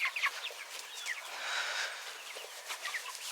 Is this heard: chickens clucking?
yes